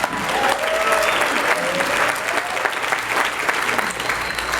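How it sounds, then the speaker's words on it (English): Audience at a training event applauding, a dense, loud, sustained wash of clapping from many hands that runs steadily through the whole stretch, with faint voices mixed underneath. "You guys give these people a big round of applause."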